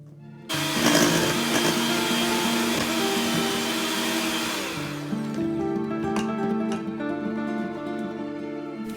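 An electric mixer creams softened butter with icing sugar in a large mixing bowl for date cookie dough, a loud continuous whirring drone with a slight drop in pitch partway through, with no voices.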